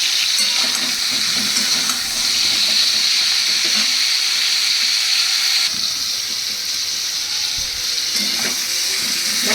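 Pieces of pointed gourd fry in hot oil with a loud, continuous sizzling hiss that holds steady throughout, with faint stirring knocks underneath.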